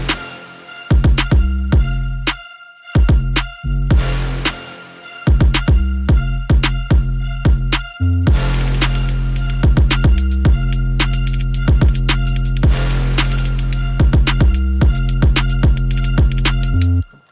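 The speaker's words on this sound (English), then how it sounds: "I actually have two different 808s" Two layered 808 bass samples in FL Studio play in a trap intro. Deep booming hits pulse with the beat over drums and other instruments, stop-start at first and then driving continuously, loud and alone without voices.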